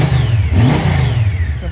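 A Honda Valkyrie Rune motorcycle engine idles smoothly and steadily up close, a low even rumble with a slight rise in revs partway through and no voices over it.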